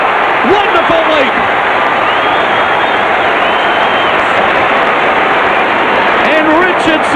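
A packed stadium crowd roars steadily at an Australian football match as Richmond's Matthew Richardson takes a big mark and kicks a goal in his 200th game. The dense, continuous noise carries a commentator's voice over it.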